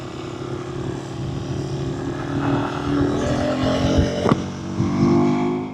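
A KTM 390 Adventure motorcycle accelerates on a road. A steady engine drone rises gradually over a few seconds, with wind noise and a brief thump near the end.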